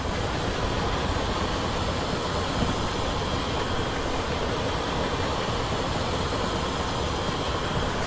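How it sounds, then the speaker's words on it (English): Freight train on a South Wales coastal line in Train Simulator 2017, a loud, steady rumble and rolling rail noise filling the whole stretch without pause, close by and unaccompanied by talk. "There's a freight train."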